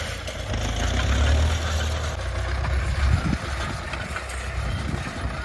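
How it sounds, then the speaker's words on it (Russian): An MTZ tractor harrowing virgin solonetz soil with heavy tine harrows runs with a steady low diesel drone, swelling slightly as it pulls away, alongside rattling and field wind noise at close range. "Трактор пошел баронками."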